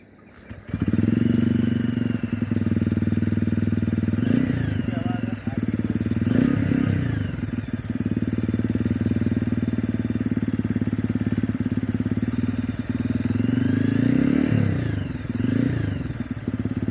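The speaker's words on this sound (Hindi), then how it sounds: "अब एनजीएस की बात हो ही रही है, तो एक बार एग्जॉस्ट सुन लिया जाए।" A Honda Hness CB350 motorcycle's exhaust rumbles steadily at idle with a deep throb close by, a few revs swelling and falling, and brief voices over it.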